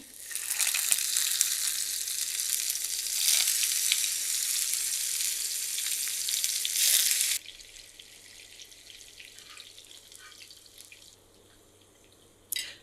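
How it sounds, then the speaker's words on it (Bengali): Loud, steady sizzling of oil in a frying pan as tomato rings and egg omelette fry fills the first seven seconds, then drops to a quieter crackle with faint kitchen clatter and a brief burst at the end. "অমলেটগুলো ভাজতে চলে আসলাম আমি। আর এখানে কিছুটা তেল দিয়েছি এটা ফ্রাই প্যানে।"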